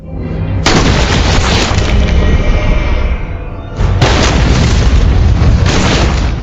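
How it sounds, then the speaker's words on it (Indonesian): A grenade explosion in an action film lands as a loud, sustained roaring boom, broken by a brief dip and then a second heavy blast that keeps rumbling to the end. "tak disangka-sangka Charles memegang sebuah granat"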